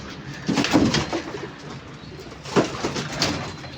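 A young pigeon coos softly in two short bursts of low, throaty calls, close by and with no voices.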